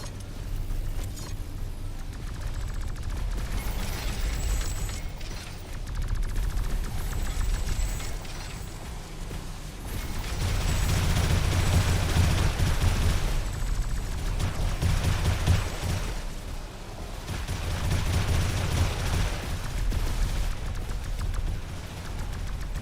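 Minigun turrets firing in a defend-the-bastion video game: dense, continuous rattling bursts that swell and fade in long waves, loud and steady with no talk.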